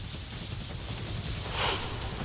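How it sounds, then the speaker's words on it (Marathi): Steady heavy rain hissing across a broad band in Khed, a dense, even wash of sound with no voices, swelling slightly near the end. "खेडमध्ये मुसळधार पाऊस सुरू आहे"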